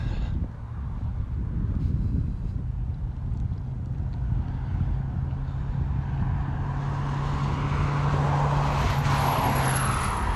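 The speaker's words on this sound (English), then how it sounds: "Oh yeah, here comes the plane." An airplane passes overhead near an air museum, its engine a loud, steady rumbling drone that builds and brightens toward the end as it comes closer, with no talking.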